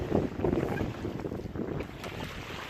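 Wind rushing over a sailboat while sailing: a steady, full-band roar with gusty rumble close to the microphone, continuous for the whole moment without any voices.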